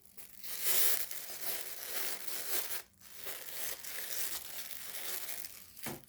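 Plastic and paper packaging around cross-stitch and diamond-painting craft products crinkles and tears close by in bursts of rustling, with one brief pause and a final crackle.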